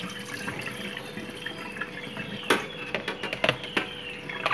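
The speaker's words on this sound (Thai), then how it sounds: "ซาวทำความสะอาดเขาให้เรียบร้อยนะครับ ซาวสักประมาณ 2-3 น้ำครับ" Glutinous sticky rice being rinsed and swished in water by hand, a close, continuous wet sloshing with a few sharper splashes and trickles toward the end.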